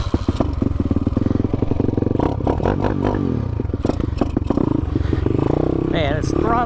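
A YCF 190 Daytona supermoto motorcycle with a swapped sprocket accelerates hard down a road, its engine buzzing and rising through gears under loud wind rumble and clatter.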